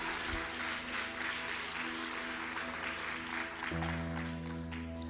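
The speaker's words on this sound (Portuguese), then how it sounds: "Se eu fosse a você, eu aplaudia Jesus agora" A church congregation applauds during a Portuguese-language sermon, a dense steady wash of clapping mixed with a sustained organ or keyboard chord droning underneath throughout.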